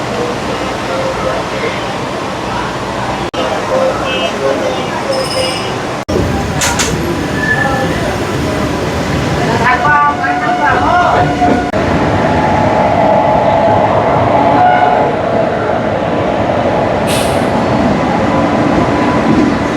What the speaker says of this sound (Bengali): ট্রেন ঢুকলো স্বাধীনপুর, এই হচ্ছে স্টেশন স্বাধীনপুর।